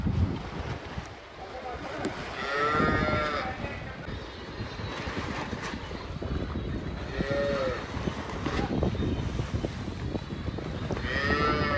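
Cattle lowing repeatedly as cows are moved between pens on a dairy farm, amid a busy outdoor din, with wind noise and shuffling movement throughout; a few moos rise clearly above the background.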